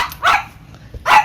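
A dog gives two sharp barks about a second apart, close and loud indoors at home, with quiet between them.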